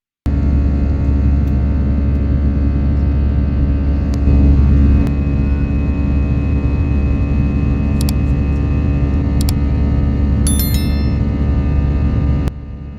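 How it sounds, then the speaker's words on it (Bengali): Steady, loud engine drone with a deep low rumble and broad hiss, constant throughout from inside an airplane cabin on a flight from Dhaka to Nepal, with a few faint clicks. "এটা হচ্ছে আমাদের বিমান, মানে এই ফ্লাইটে করে আমরা ঢাকা থেকে নেপালে পৌঁছাবো"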